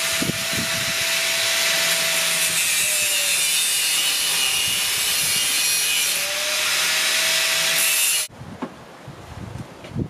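A hand saw cuts through wood in long rasping strokes, loud and close, the grinding continuing steadily before stopping abruptly near the end, followed by faint knocks.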